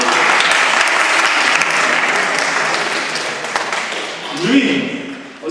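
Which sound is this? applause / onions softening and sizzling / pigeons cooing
applause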